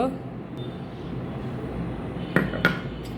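Flour is beaten into batter in a bowl for a stuffed roti, with two sharp clinks of utensil against bowl near the end over a soft background and faint room noise.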